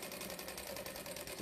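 A sewing machine runs steadily, stitching across the fabric in a continuous mechanical whir with a fast, even needle rhythm, fairly quiet and close, with no talk.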